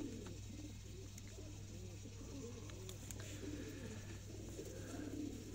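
Sialkoti pigeons cooing, a soft repeated burbling coo close by over a constant low hum, with faint chirps in the background and no speech.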